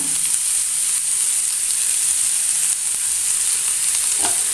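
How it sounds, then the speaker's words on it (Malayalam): Finely chopped onion and curry leaves fry loudly in hot oil in a pan, giving a dense, unbroken sizzle from start to finish with a brief clatter near the end. "ഇനി നമ്മൾ അതിലേക്ക് ഒരു സവാള പൊടിയായി അരിഞ്ഞത് ഇട്ടു കുറച്ച് കറിവേപ്പില ഇട്ട് കൊടുക്കാം"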